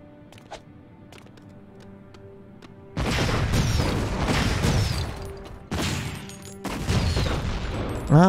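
Shooting in Lego Indiana Jones 2 during a bonus level: quiet clicks at first, then loud sustained bursts of blasting and crashing that break off and start again several times.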